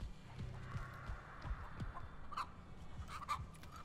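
A chicken clucking in the Texas Chainsaw Massacre video game, quiet intermittent clucks over a low, throbbing ambient hum, with no talking.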